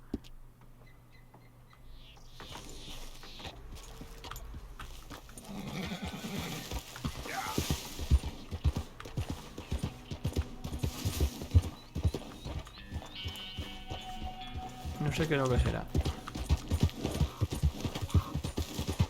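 Horse hooves pounding at a gallop in Red Dead Redemption 2, a dense rapid rhythm that builds after a quiet start, with a whinny and someone speaking briefly over the hoofbeats.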